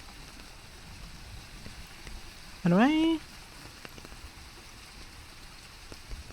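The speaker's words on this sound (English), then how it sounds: "Got rain noise." Looped rain recording played back as a steady soft patter and hiss, with a short spoken question cutting in partway through.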